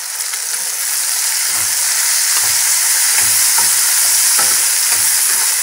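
Raw banana pieces with turmeric, rock salt, cumin and green chilli fry loudly in a pan for bhujia, a dense, close sizzle broken by rhythmic scraping strokes as the mixture is stirred.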